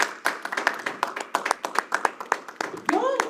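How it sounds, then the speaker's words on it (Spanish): A church congregation claps during a sermon in a few sharp, separate hand strikes in an uneven rhythm, close and fairly loud, with a voice rising briefly at the end. "¿Cuánto le dan un aplauso al Señor?"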